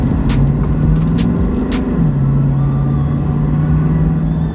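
A Nissan Titan XD diesel pickup, freshly tuned, revs at quarter throttle with a rising then settling drone and turbo whine, close and steady without talk.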